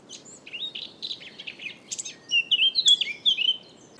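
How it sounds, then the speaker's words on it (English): Long-tailed tits call at a garden bird feeder, giving a busy run of thin, high chirps and short trills that grow louder and denser toward the end, close by over a quiet background. "These are some long-tailed tits that visited my garden bird feeder."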